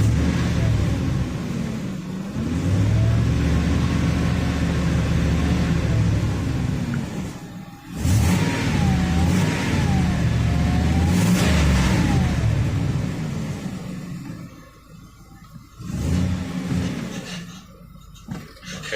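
A car engine idles and revs as the transmission engages and the vehicle drives off after valve body work on a 4L80E transmission, with a steady mid-pitched rumble, rising whirs and brief dips between pulls.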